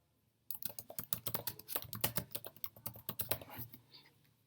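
Rapid, close keystrokes on a computer keyboard as a task description is typed into CRM software, a quick irregular burst of clicks that tapers off after a short silent start.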